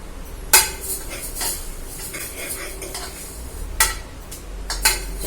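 Broken wheat porridge and moong dal roast in a pan, with a spoon scraping and clattering against the metal in irregular strokes, a few sharp knocks standing out over a faint background sizzle.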